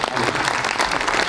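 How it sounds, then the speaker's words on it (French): Audience applause at a French town's presentation evening for a cycling tour's 12th edition, a brief burst of dense, steady clapping from a seated crowd, close and loud. "applaudissements pour Monsieur Princet"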